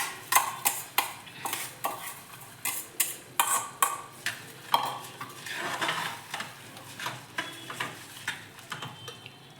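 Washed rice goes into a pot for Karnataka tomato bath, making a close run of sharp clinks and scrapes against the metal, about a dozen irregular bursts at first and then a denser, softer rattle, with no talking.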